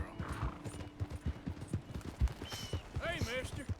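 Horse hooves clip-clopping at a steady riding rhythm in Red Dead Redemption 2, close and distinct, with a horse whinny and other game sounds near the end.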